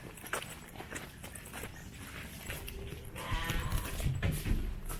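Sheep in a farm pen at a Purwakarta sheep farm, with loose bleats and animal shuffling close by, growing busier and louder toward the end over steady barn background noise.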